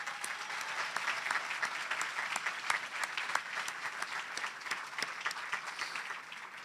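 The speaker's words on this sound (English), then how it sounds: "Can we give them one more round of applause?" Applause at a scholarship awards ceremony for university representatives, an even wash of clapping from a crowd, faint and somewhat distant, steady from start to finish.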